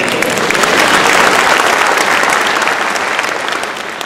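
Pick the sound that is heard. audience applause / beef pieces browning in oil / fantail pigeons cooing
audience applause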